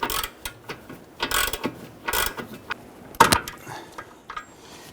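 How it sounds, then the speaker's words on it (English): A ratchet with a 15/16 socket snugs a ball joint nut on a 1999-2004 Jeep Grand Cherokee rear upper ball joint, giving several short bursts of rapid clicking with pauses between them, close up and without speech. "Let's go ahead and snug that down. We're using a 15/16 socket."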